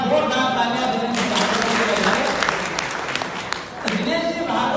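Applause from an audience at a community gathering in Indore, a dense patter of clapping filling the stretch, with a voice speaking over it at moments.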